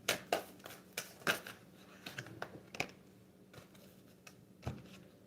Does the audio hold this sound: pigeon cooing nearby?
no